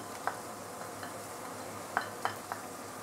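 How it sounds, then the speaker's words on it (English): Garlic, ginger, shallot and spring onion are sauteed in a pan, a faint, soft sizzle underneath with a few sharp, light clinks of a utensil against the pan scattered across a few seconds. "we want to saute all the ingredients that we have prepared a while ago."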